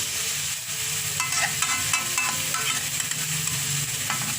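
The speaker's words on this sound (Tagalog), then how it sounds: "Igisa muna natin siya, no?" Asado filling sautéing in a pan, a steady close sizzle with scraping stirring strokes throughout.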